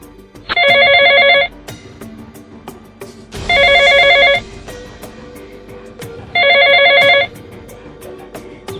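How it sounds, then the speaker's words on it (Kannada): A telephone ringing on an outgoing call, three evenly spaced bursts of bright electronic trilling with short pauses between them, loud and close with no talk. "ಮಗ ಆ ಅರ್ಜುನ್ಗೊಂದು ಫೋನ್ ಹಾಕೋ."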